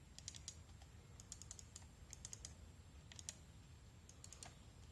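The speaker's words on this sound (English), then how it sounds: "I will click so you can hear the clicking." A HyperX Pulsefire Dart computer mouse gives sharp, quiet clicks in small rapid clusters, repeated several times over a few seconds against a faint low background hum.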